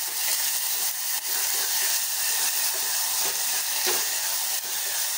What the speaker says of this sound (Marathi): कांदा आणि टोमॅटो घालायचं आहे आणि लगेच आपल्याला हे वाटण पण घालायचं आहे आणि हे फ्राय करायचं आहे